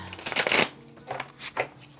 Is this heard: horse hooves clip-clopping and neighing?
no